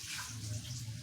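Water poured into a cooking pan while making pitha, a steady close splashing rush with no pauses over a brief moment.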